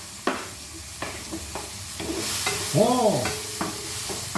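Pakbet vegetables with tomato and string beans are stir-fried in a pan: a steady sizzle is broken by repeated scraping and clacking of the spatula at irregular intervals, and a short vocal exclamation cuts in briefly.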